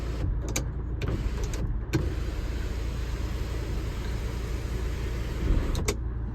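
An electric sunroof on a 2018/19 Hyundai Creta 1.6 SX(O) opens with a steady low motor whir that runs throughout, broken by a few short clicks and knocks.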